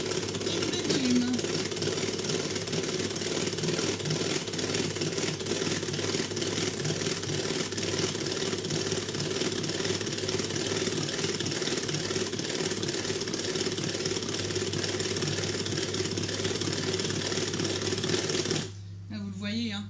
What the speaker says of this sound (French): on va venir fouetter nos jaunes. Nos jaunes et notre sucre avec notre Speedy Chef en vitesse 1